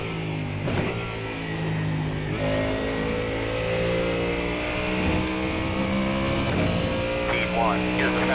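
A Ford Mustang GT3 race car engine in the iRacing sim at Silverstone revs and shifts through gears, a loud, buzzy, continuous drone with rising and falling pitch.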